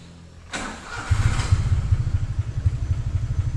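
A 1986 Mitsubishi Jetstar car engine cranks and catches with a sharp burst, then settles into a steady, rumbling idle close by, with no talking.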